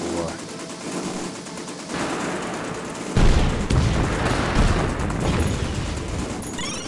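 Rapid gunfire from the arcade shooter 1976 Back To Midway on PS4, a dense stream of shots and booms that becomes louder after a few seconds, with someone talking over it.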